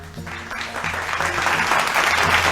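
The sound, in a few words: applause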